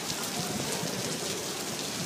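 Heavy rain pours down in Paris beside the Seine, a dense, steady hiss of water falling and drumming on surfaces, loud and continuous with no voices.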